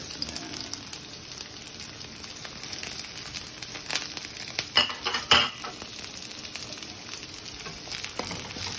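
Garlic and onion sautéing in a pan for a bean sprout and tofu dish, a steady close sizzle with clinks of a utensil against the pan in the middle, and no talk.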